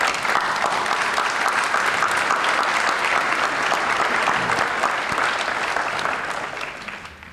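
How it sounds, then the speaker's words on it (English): A school audience applauds the 2019 National Honor Society induction class, a dense, steady wash of many hands clapping for about six seconds before tapering off. "How about give these guys a big round of applause up front."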